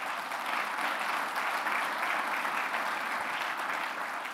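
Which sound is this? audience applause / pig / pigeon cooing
audience applause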